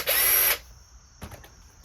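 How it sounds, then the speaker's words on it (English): A cordless 1/4 inch impact wrench runs in one short loud burst of about half a second. A faint clack follows near the end. "Even more power is the 1/4 inch impact wrench."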